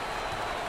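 A crowd applauds steadily at a college basketball game, the USC vs UCLA PAC 12 championship, a dense wash of clapping filling the arena.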